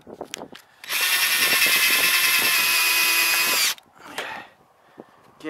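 Power drill driving screws into roof capping during a roof repair, a loud high whine held for about three seconds, with short clicks and handling knocks before and after.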